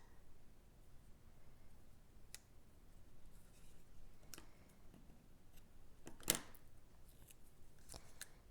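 Scissors trimming a ribbon on a slimline birthday card give a single faint, sharp snip partway through an otherwise quiet stretch, with only soft handling noise around it.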